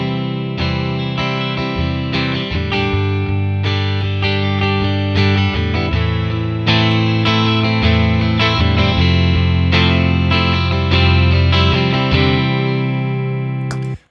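Electric guitar played through a Line 6 Helix amp model and a York Audio impulse response, with a dense, distorted, sustained tone and steady strummed chords and riffs at constant loudness, alone with no talking.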